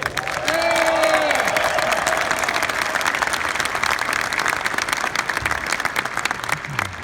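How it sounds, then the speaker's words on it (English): An arena crowd gives a loud round of applause with some cheering for Marty's family at a Devils tribute night, sustained clapping from a large audience, while a voice is briefly heard over it. "Please give them a round of applause."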